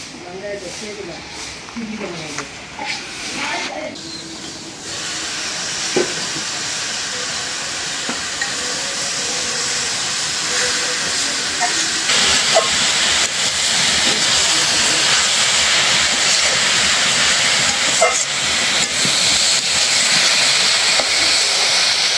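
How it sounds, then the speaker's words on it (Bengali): Khesari (grass pea) greens frying in a pan hiss and sizzle loudly and steadily, the sound building after a few seconds of faint handling noises and continuing close up to the end. "কলই শাকটা ভাজা হয়ে গেছে, উঠাই নিই।"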